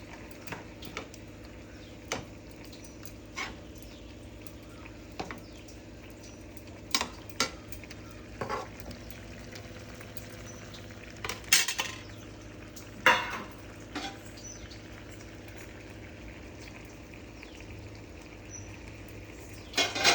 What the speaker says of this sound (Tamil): இப்போ பெரிய இறாலை போட்டுக்கலாம்